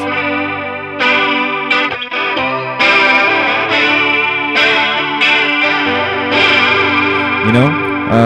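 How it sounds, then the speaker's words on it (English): An electric guitar strums simple chords through a chorus effect pedal, shimmering, with a light overdrive edge, loud and close. "Last one is the chorus."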